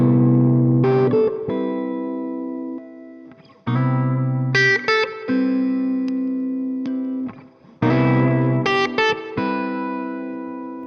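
An electric guitar, a vintage 1961 Gibson ES-345 with original PAF pickups, strums chords through effects, each ringing out with shimmering modulation and reverb before the next, in a slow repeating pattern.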